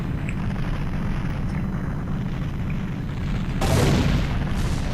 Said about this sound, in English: All the explosions.